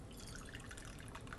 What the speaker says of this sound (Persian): حالا آب گرمشو بهش اضافه میکنم.